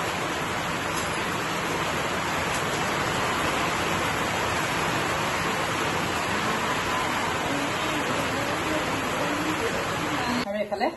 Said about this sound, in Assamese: ইমান ডাঙৰকৈ বৰষুণ দিছে